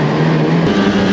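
An Arctic Cat Catalyst 858 snowmobile engine pulling away, a loud steady drone with a pitch shift partway through the short burst, with no talking.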